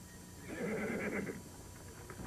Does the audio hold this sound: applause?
no